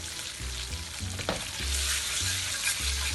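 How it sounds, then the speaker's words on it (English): Bean paste and garlic frying in a wok for popiah filling: a steady low sizzle broken by rhythmic scraping stirs of a spatula, close and fairly quiet. "So fry the bean paste a little bit crispy"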